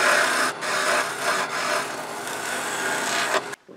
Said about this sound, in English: I'm going to try this scraper, see if I can cut through the few pieces that are sticking up